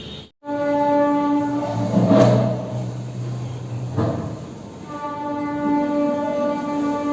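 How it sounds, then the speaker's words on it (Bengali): A train passes close by near a station, its horn sounding in long sustained tones at the start and again near the end, over continuous rumbling rail noise with a brief loud clatter in the middle. "তো ট্রেনের আওয়াজ পাওয়া যায় এখান থেকে"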